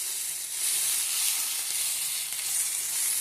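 Sprouted grains cook in an open pot with a soft, steady sizzle and hiss, faint and continuous with no voices.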